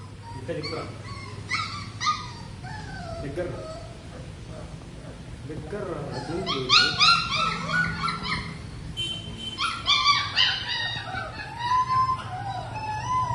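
High, thin whimpers and yips from several Labrador puppies come in clusters, close by, over a low steady hum with a voice talking underneath.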